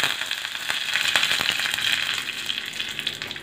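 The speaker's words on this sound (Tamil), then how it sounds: "கடுகு நல்லா பொரிஞ்சிருச்சு." Mustard seeds spluttering in hot oil for a chutney tempering, a dense steady crackle of quick popping bursts that runs throughout at close range, with no talking.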